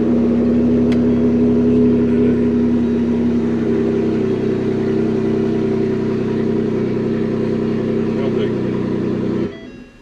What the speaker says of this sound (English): turned on the truck